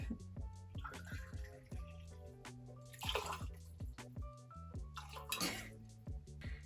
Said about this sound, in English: And don't forget the vodka, 2 ounces.